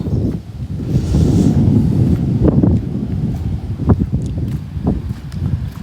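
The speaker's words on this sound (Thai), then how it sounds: "ลมเย็น ลมเย็นมาก" Cool wind blowing outdoors at a garden house in Chanthaburi, a steady broadband rush that fills the whole stretch with a few faint rustles and soft taps, no talk.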